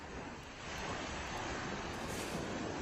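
Ocean surf along the North Carolina coast, where whole houses sit in the water during a storm, a continuous broad wash of breaking waves with some wind that grows slightly louder after the first half second.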